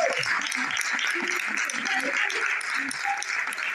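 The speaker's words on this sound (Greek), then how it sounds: "Και πιο δυνατά αν μπορούμε, γιατί το χειροκρότημα δίνει την αγάπη και την ψυχή σας." An audience claps at a book launch for the novel 'Η Ζωγράφος', the applause holding steady throughout while a voice talks over it.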